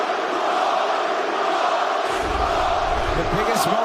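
A loud, dense crowd roars throughout an MMA fight between Joaquin Buckley and Nursulton Ruziboev, with a continuous wall of cheering and shouting that swells further toward the end, with voices mixed in.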